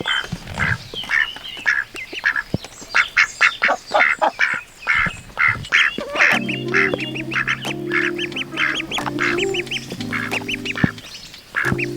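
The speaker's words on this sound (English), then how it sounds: "All with the hope of them all becoming friends, and then Frida and Diego taking over as adopting duck parents" Ducks on a homestead quack in a rapid run of loud, close calls through the first half, then settle into lower, sustained honking tones with continued quacking in the background.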